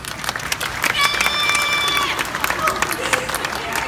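Audience applause at an animal park bird show, a lively burst of clapping and cheering from the crowd, with a few high whistle-like tones and voices mixed in.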